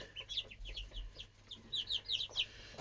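Baby chicks peep rapidly at close range, a busy run of high, bright chirps that comes in quick bursts and overlaps, with no voices.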